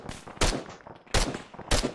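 Gunfire in the Arma 3 military shooter game, three loud, close, sharp shots spaced about half a second to a second apart, each with a brief echoing tail, with no talking.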